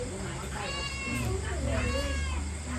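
A cat meows twice in drawn-out, wavering cries, with people talking nearby.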